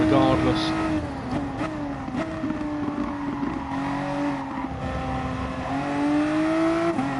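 A car in a racing video game at the Kyoto circuit, its engine droning loud and steady with rising and falling revs as it works through corners, under a voice speaking.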